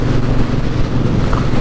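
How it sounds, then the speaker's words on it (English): A Triumph Bonneville Bobber motorcycle engine thrums steadily while riding, a loud low rumble mixed with wind noise, continuous and unbroken. "The engine thrums away underneath you"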